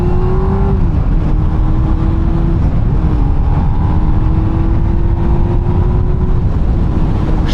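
A 2007 Honda Hornet 600 engine runs loud and close, holding a steady drone that shifts pitch a few times as the revs rise and settle, with no other sound.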